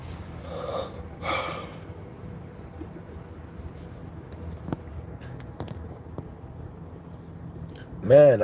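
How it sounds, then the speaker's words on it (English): A man yawning, with breathy, drawn-out gasping inhales early on and another loud breathy burst at the end, close to the microphone in an otherwise quiet room. "Man, I'm yawning and it's so early."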